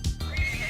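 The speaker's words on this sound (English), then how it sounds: "It's a literal iron horse." An iron horse in the Sea of Stars video game gives a short, close neigh over hoof clip-clops, game sound alone with no talk.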